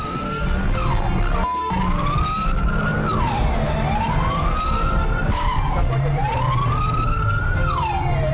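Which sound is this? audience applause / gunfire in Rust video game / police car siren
police car siren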